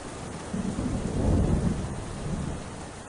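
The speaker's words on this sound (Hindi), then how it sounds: "इतनी तेज बारिश में तो ऐसे क्यों भीग रहा है?" Heavy rain pouring steadily with a deep rumble of thunder swelling in the middle, loud and enveloping with no voices.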